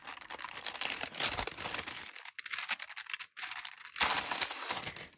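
Paper crinkling and slicing as an envelope of holiday mail is cut open, close and crisp, with rustling bursts broken by short quiet gaps.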